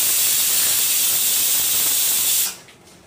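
Pav bhaji mixture boiling vigorously in a pan, a loud steady hiss and bubbling roar that runs continuously, then drops off abruptly near the end.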